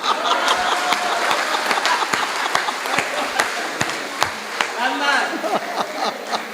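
An audience claps at a Hindi comedy poetry gathering, scattered sharp claps over a busy crowd murmur, with voices present throughout.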